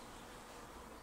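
Honeybees in an urban beehive make a faint, steady, continuous buzz for about a second, with no other sound standing out.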